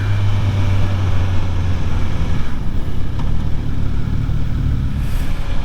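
A 2024 Suzuki GSX-S1000 GT motorcycle on the move, with a loud, steady engine drone and wind rush. A low engine tone holds for the first couple of seconds, then the sound settles into constant road and wind noise, with no talking.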